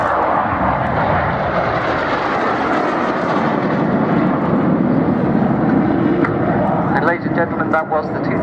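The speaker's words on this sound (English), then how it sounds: "The Gnat bomb burst." Folland Gnat jets in a three-ship air display at Culdrose 2015 roar loudly and continuously through a bomb burst manoeuvre, a broad sustained engine rumble with a slight pitch shift near the end.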